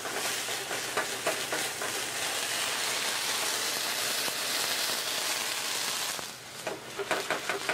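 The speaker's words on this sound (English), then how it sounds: "Half a cup of Cabernet Sauvignon. And deglazing the pan." Cabernet Sauvignon hits a hot pan to deglaze it, giving a loud, steady hiss and crackle that holds for several seconds before easing into softer, popping sizzles.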